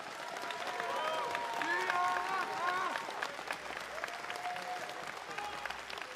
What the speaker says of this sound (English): A round of applause for Wansu one last time